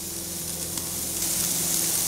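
Sous vide tri tip searing over hot coals, a steady close crackling sizzle with soft hiss that holds level and swells slightly toward the end, alone without talk.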